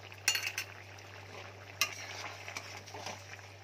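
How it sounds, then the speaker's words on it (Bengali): Shukto, a Bengali vegetable curry, simmering in a pan while a spoon stirs it, soft sizzling under a few sharp scraping clinks of utensil against metal, close and fairly quiet. "দিয়ে এবার এটা ভালো করে একটু ফুটে নেবে।"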